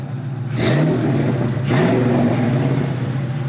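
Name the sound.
1980 Trans Am restomod, 5.7 liter modern engine, dual exhaust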